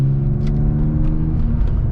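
A manual BMW E36 M3 with an aftermarket exhaust drives along, giving a steady, throaty engine drone heard from inside the car, moderately loud with no talking.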